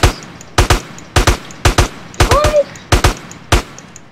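Gunfire in the multiplayer game GTA San Andreas (SA-MP) deathmatch: loud, close shots in repeated pairs and short bursts, about a dozen over a few seconds.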